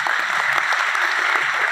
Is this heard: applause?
yes